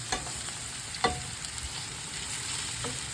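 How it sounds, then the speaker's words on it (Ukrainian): Onions, carrots and mushrooms fry in a pan with a soft, steady sizzle, punctuated by a few clinks and scrapes of stirring. "Беремо цибульку, морковку та грибочки кидаємо на пательню, підсмажуємо"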